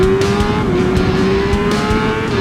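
A motorcycle lapping a race track holds a steady, loud, high engine drone with a constant pitch, running continuously without pause.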